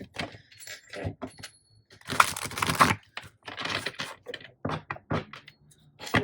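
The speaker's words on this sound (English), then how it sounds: "These cards are very big for my hands, so it's kind of tricky to shuffle." Papery riffling and snapping bursts as a deck of oversized tarot-style cards is shuffled by hand, with a longer crackling riffle in the middle; close and fairly quiet.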